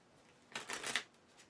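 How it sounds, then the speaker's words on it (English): A deck of playing cards for the Kingdom Legacy card game is riffled once in a quick, close, quiet burst lasting under half a second, followed by a faint flick. "I'm going to try to do a good job of not looking as I shuffle here."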